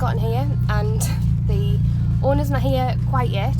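A Mini's loud exhaust drones steadily and low throughout, sitting under someone talking in the foreground.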